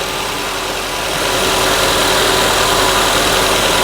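A 2016 Ford Escape engine runs with a steady, loud, close drone as the AC compressor cycles on, the hum swelling slightly partway through, with no talk.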